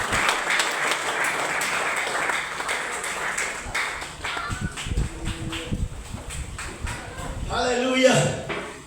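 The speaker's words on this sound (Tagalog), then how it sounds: "Palakpak para sa Diyos." A church congregation claps during a sermon, a burst of applause at the start that breaks into scattered claps and voices, with a person talking over the end.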